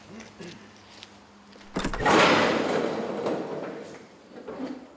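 Doors swing open with a sudden broad rush of sound that swells and lingers for a few seconds, heard on the way into an 1899 Fiat veteran car event, with a faint hum beforehand.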